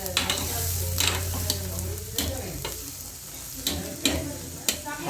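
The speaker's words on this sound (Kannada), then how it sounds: "ಅದನ್ನು ತವೆ ಮೇಲೆ ಹುರ್ಕೋಬೇಕು ಫ್ರೆಂಡ್ಸ್" Bitter gourd roasts on a hot tawa with a steady sizzle, while a utensil scrapes and stirs, giving occasional sharp clicks close by.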